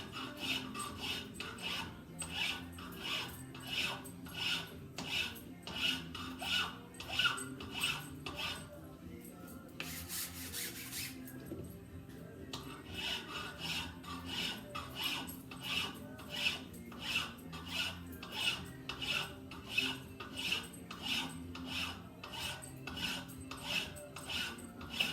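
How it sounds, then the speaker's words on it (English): Metal file rasping on a steel hammer head, a steady series of rhythmic back-and-forth strokes, close and fairly quiet, with a short pause in the middle before filing resumes. "We'll just file a little bit more,"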